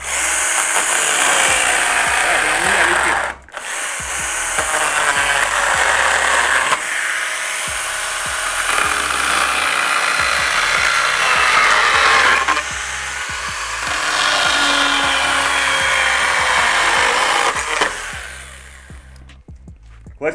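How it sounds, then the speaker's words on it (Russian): A STIHL GTA 26 cordless mini chainsaw whines loudly as it bites into wood, its pitch dipping under load, with a couple of brief pauses before winding down. "Да, пила работает бодро."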